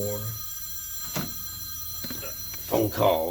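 Telephone ringing nearby in a garage during work on a 2005 Ford F250 6.8 3V, a steady electronic ring tone running throughout under a man's speech.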